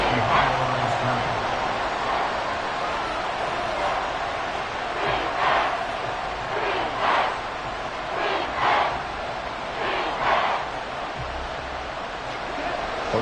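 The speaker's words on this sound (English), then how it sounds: "this crowd making it hard to hear" Steady roar of a football stadium crowd during a league game, a loud continuous wash of cheering with swelling bursts of shouting that rise and fall throughout, a play-by-play voice speaking over it.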